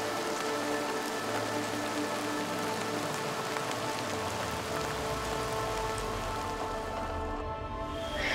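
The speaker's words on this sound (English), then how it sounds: "If the rain doesn't let up soon," Heavy rain pours steadily in a wild African park during a rainy season downpour, a dense continuous hiss of drops drumming on surfaces with no voices.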